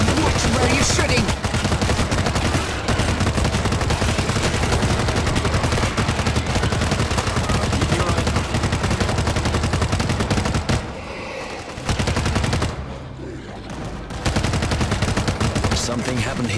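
Heavy gunfire in the World War Z video game, set in Moscow, with sustained loud automatic bursts that are close, briefly dropping off twice before resuming. Voices are heard under the shooting.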